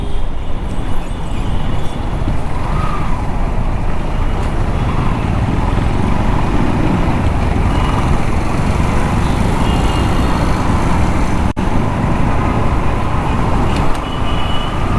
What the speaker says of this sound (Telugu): రోడ్లో వెళ్తుంటే ఘోరంగా ట్రాఫిక్ ఉంది.